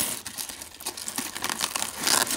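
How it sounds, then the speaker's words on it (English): Velcro strips inside a tactical magazine bag with double zippers, pressed and pulled against each other in a steady run of close, rough crinkling and tearing rasps, with no talking. "Of course the strip just inserts into the Velcro"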